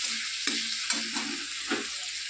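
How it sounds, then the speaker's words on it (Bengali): Oil sizzles steadily in a pan as egg masala is sautéed, while a spatula scrapes and knocks against the pan a few times, close up. "তো দেখো ডিমের মশলা কষাচ্ছি, প্রায় হয়ে গেছে কষানো।"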